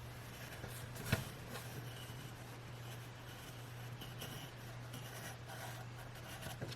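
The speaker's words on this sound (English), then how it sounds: "we're just going to outline the second layer onto the third layer" A pen tracing an outline onto paper for a holiday shadow box craft, a faint continuous scratchy rubbing with a few soft strokes over a low background hum.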